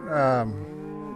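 A single long, loud moo from nearby cattle in a gathered pasture holding a pre-conditioning herd of about 250 head. It swells and then trails off over about a second.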